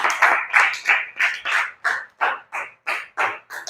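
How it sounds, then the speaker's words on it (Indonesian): A school class claps in unison for students after their group presentations, about a dozen sharp claps in a steady, even rhythm, close and fairly loud with no talk. "Oke, kasih tepuk tangan dulu untuk kalian semua."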